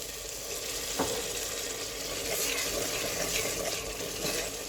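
Onion and masala frying and stirred in a pot for matka chicken, a steady loud sizzle with scraping stir strokes throughout and no talk.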